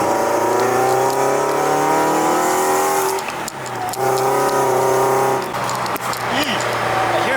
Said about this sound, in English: FRS is back on the streets, boys and gals.